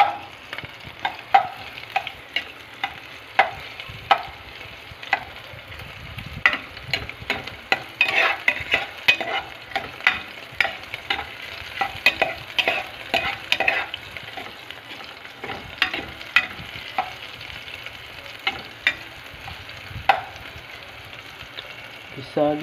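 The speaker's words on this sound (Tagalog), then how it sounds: "Gisa natin yan hanggang lumabas ng aroma." Aromatics for tinolang manok sautéing in a pan, a close continuous sizzle broken by frequent sharp spatula stirs and scrapes, with no talking.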